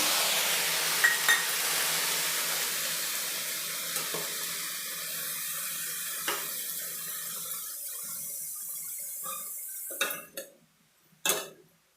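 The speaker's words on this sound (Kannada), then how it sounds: "ಈಗ ನಾನು ಒಂದು ಅರ್ಧ ಗ್ಲಾಸ್ ಆಗೋಷ್ಟು ನೀರು ಸೇರಿಸ್ತಾ ಇದ್ದೀನಿ ಚಿಕ್ಕ ಗ್ಲಾಸಲ್ಲಿ" Half a small glass of water is poured into a hot pan of ridge gourd stir-fry, giving a loud hissing gush that fades, followed by a couple of sharp utensil clanks near the end.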